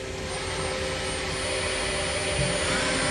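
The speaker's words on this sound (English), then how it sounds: "We're going to run the main spindle here just so you get a chance to see it." A PolyGim Diamond 42CSL CNC Swiss hybrid lathe main spindle runs at about 1,000 RPM, heard up close as a steady, loud whirring hum with a constant high whine and no break for three seconds.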